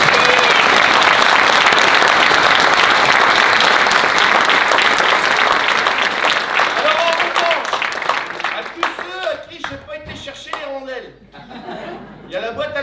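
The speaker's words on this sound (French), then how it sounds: "merci, vous pouvez vous applaudir" A full theatre hall bursts into dense, loud applause that holds for several seconds, then thins into scattered claps while voices and light laughter rise through the fading crowd.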